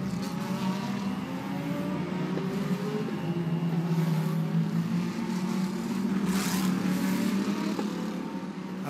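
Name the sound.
GT race cars driving at the Macau Grand Prix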